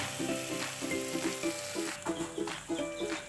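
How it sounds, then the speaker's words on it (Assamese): Spices and tomato paste frying in a pan on low heat while being stirred for an Assamese tora gazoli dish, giving a steady, soft sizzle with faint tonal sounds in the background. "এয়া মই আকৌ অকণমান সময় লৰাই ভাজি আছোঁ।"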